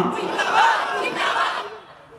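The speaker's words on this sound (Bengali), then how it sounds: "আমি এখন দেখব আমার সাথে আল্লাহু আকবারের ধ্বনি কে কত জোরে দিতে পারে" A large crowd at an outdoor Islamic sermon gathering shouts the takbir together, a loud unified roar of voices that rises, swells twice, then trails off.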